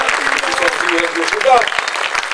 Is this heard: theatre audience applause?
yes